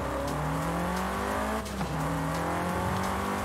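A 2016 Opel Corsa VXR producing 384 horsepower in Forza Horizon 5 revs hard and continuously, its engine pitch climbing, dropping sharply at a gear change midway, then climbing again, loud and close.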